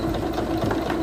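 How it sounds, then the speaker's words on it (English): Singer Quantum Stylist 9960 sewing machine stitching in reverse, a steady close mechanical whir with a fast rhythmic needle clatter running without pause for about a second, no voices. "press and hold the reverse button to sew backwards a few stitches"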